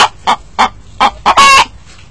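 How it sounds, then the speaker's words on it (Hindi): A caged chicken grabbed by hand clucks and squawks loudly up close, five short sharp calls in an uneven rhythm followed by a longer, harsher squawk, with nothing else in the background. "मुर्गी जोर जोर से ऐसी आवाजें निकालने लगी।"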